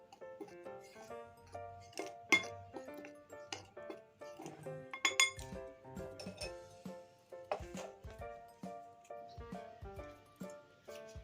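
Salt being mixed into corn flour in a bowl for donut dough, with faint, irregular light clinks and taps of a utensil against the bowl throughout.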